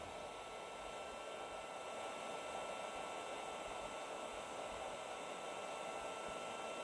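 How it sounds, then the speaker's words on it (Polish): A Kulon 912 battery charger's cooling fan runs with a steady, even whirring hiss that stays at a constant level throughout, with no other sounds over it. "Uruchamia się na chwilę wentylator."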